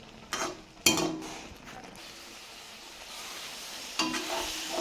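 Amla murabba cooking with jaggery in a pan sizzles steadily while a utensil stirs and scrapes, with a few sharp clinks near the start and again near the end, close and moderately loud with no talking.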